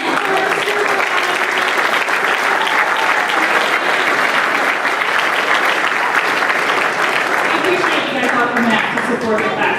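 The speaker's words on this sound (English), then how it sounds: "Let's do one last applause for all our commanders, our directors, our chiefs, our shirts, mentors," An audience at a military training class graduation ceremony applauds steadily, dense and loud clapping that holds throughout with a few shouts mixed in.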